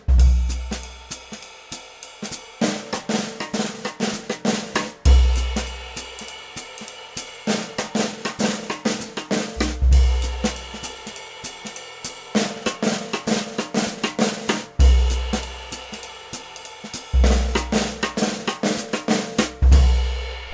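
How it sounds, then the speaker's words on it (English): A drum fill built on a flam, buzz roll and stick shot, played as straight eighth notes, repeats in cycles of dense snare strokes with deep bass and cymbal accents on each downbeat, loud and close. "you can hear how this pattern would work as straight eighth notes"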